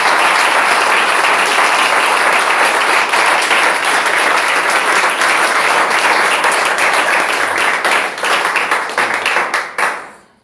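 Church congregation applauding for the Lord, loud, close, sustained clapping from many hands that holds steady for about nine seconds, then thins and fades out quickly at the end.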